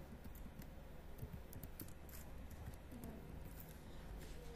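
Keys on a computer keyboard tapped in quick, irregular bursts while a search is typed, faint and close, with a soft background hum and no talking.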